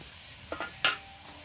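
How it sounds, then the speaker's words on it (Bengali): Water poured into sizzling spice masala for a rohu fish curry with new potatoes, giving a brief sharp hiss and splash that swells and fades over about a second, with light stirring clicks before it. "আর একটু পানি দিয়ে দিলাম।"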